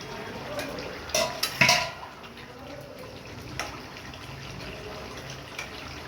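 A cooking pot's lid is lifted off while fish-head curry with potato, pumpkin and malabar spinach simmers, giving a couple of sharp metallic clinks and a brief clatter near the start, then a quiet kitchen hum.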